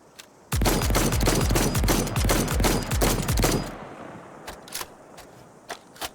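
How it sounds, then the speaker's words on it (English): Rapid automatic shotgun fire in the Cyberpunk 2077 video game: a loud, dense burst of about three seconds of repeated booming shots, followed by a quieter tail with a few scattered clicks and small mechanical sounds. "so it's an automatic shotgun"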